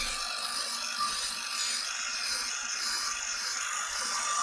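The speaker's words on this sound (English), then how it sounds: "Your hairdryer works lovely." Steady broadband whoosh of a hair dryer blowing continuously at close range, with no talking over it.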